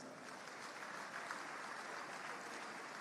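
Steady, dense applause from a large crowd at a company's tenth anniversary event continues evenly throughout, without any pause.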